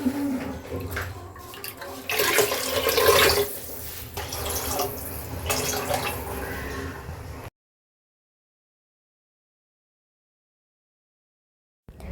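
Water is poured into a pot for goat leg paya soup, a running splash that lasts several seconds and swells in the middle, then stops abruptly into silence.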